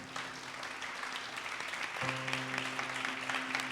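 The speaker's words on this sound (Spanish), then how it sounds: "Un aplauso para el Señor" A Pentecostal congregation claps in a dense, sustained round of applause, with a steady hum or tone entering partway through beneath the clapping.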